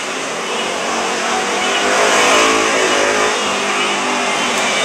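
A vehicle with a loud aftermarket exhaust revs hard, a continuous raw roar that builds slightly toward the middle and holds loud and close for several seconds with no talk over it.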